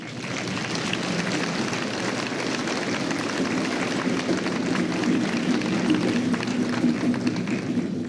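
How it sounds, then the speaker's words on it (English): A crowd at a high school NJROTC military ball gives a sustained round of applause, a dense, even wash of clapping that holds steady throughout with a faint murmur underneath. "A round of applause."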